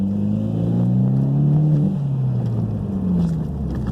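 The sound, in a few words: Mitsubishi Evo X turbo blow-off valve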